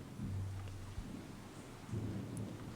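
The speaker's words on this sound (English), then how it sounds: "You can hear the rain droplets coming down here." Rain falls in a soft, even patter, broken by two low rumbles of thunder, one early and one near the end, all faint and fairly distant.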